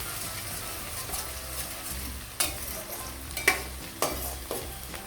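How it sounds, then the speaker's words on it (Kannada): Chopped onions fry in hot oil for vegetable fried rice, a continuous close sizzle punctuated by several sharp scraping stirs of a spatula against the pan. "ಈಗ ಈರುಳ್ಳಿ ಹಾಕ್ಕೊಂಡಿದ್ದೀನಿ. ಇದನ್ನು ಕೂಡ ಎಣ್ಣೆಯಲ್ಲಿ ಫ್ರೈ ಮಾಡ್ಕೊಳ್ಳಿ."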